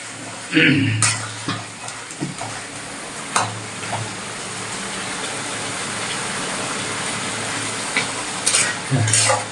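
Bengali curry gravy with spice powder bubbling and frying in oil in a pan while it is stirred: a continuous hissing sizzle broken by occasional clinks and scrapes of the spoon.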